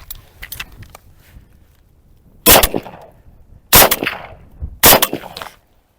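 A Ukrainian "Vulkan" replica automatic gun fires three sharp, loud single shots spaced about a second apart, each with a short ringing tail, after faint clicks and handling clatter.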